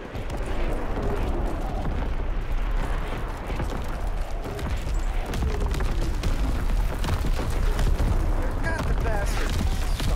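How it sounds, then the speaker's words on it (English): Enemy artillery in a Call of Duty WWII multiplayer Domination match on Aachen pounds continuously with dense, loud booms and rumbling blasts amid gunfire and battle noise, while voices are heard over the chaos. "Incoming enemy artillery. Get to cover."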